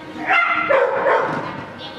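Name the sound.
dogs barking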